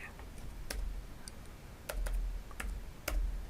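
A computer keyboard is typed on while entering the ribbon command in AutoCAD 2025, producing a few sparse, crisp key clicks at an irregular pace in a quiet room.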